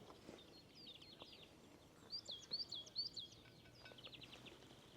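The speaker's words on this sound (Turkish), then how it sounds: "Can baştan karası ötüyor yine." Eurasian blackcap singing near a waterfall in Trabzon, with bursts of warbling song around the middle of the clip, moderately close, over a soft steady outdoor background.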